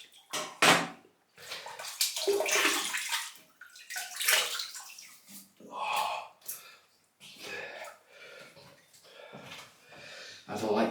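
Water running from a tap onto a shaving brush loaded with soap, splashing in bursts that start and stop, close and fairly loud, with someone talking between the pours.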